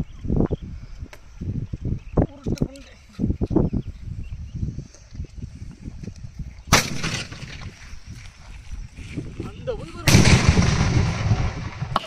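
Sharp cracking bangs at first, then two loud bursts as a village-made firecracker rocket explodes, crackling and hissing for a second or two, with voices talking faintly in between.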